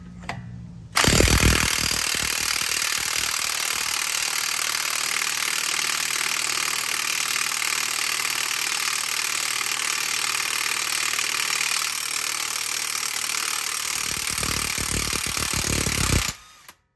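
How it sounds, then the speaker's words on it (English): Impact wrench with a 32 mm socket driving off an axle nut on a Dodge Avenger, a loud continuous rattling hammer that runs steadily for about fifteen seconds before cutting off. "I've got an impact, so I'm just going to drive it right off"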